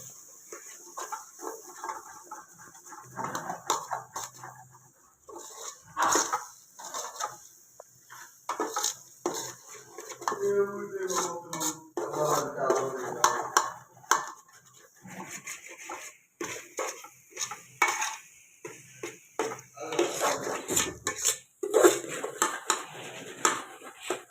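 Beaten eggs and onions are mixed in a bowl, giving quiet irregular clinks and scrapes of a utensil against the dish with soft wet stirring, fairly faint and uneven over about twenty-four seconds.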